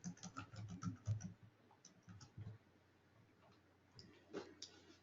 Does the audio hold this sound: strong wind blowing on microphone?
no